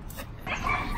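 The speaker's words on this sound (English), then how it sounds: "he barked so much that his squeaker's gone" A pet dog in a new home in Hawaii gives a short yip or bark close by against a steady room background, with a whimpering edge.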